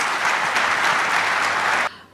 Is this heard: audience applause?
yes